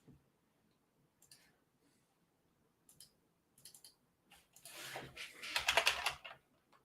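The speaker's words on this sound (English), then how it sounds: "I'm not going to be muting the clicky keyboard because I like it" A clicky computer keyboard typed in quiet, starting as sparse isolated clicks and building into a dense, louder burst of rapid keystrokes near the end, with no voices.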